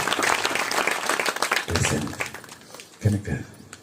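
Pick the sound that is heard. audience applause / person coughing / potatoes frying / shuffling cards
audience applause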